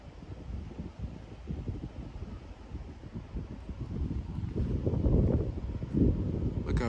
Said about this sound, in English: It's always really windy out here though.